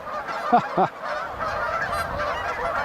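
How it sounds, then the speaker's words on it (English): Tundra swans and a Canada goose honking outdoors: two quick, loud honks close together, followed by fainter, more distant honking calls against a steady background. "it appears to be a Tundra swan couple with their 2 offspring from this year, along with a stray Canada goose"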